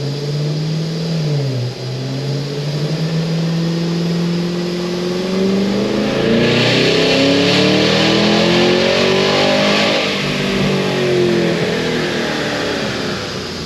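An 800-horsepower Cadillac Escalade V revs on dyno rollers, its engine tone sweeping up and down in repeated rising pulls, loud and steady throughout with a harsher, brighter roar through the middle stretch.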